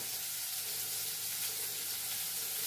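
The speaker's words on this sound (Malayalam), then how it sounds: "സവാള ഇട്ട് കൊടുത്ത് നമ്മൾ മറ്റേ ചക്കക്കുരുവിനകത്ത് ഉപ്പിട്ടതാണ് ഇതൊന്ന് വഴറ്റിയാൽ മതി" Onion and salted jackfruit seeds sauté in a pan, giving a soft, steady hissing sizzle that runs unbroken throughout.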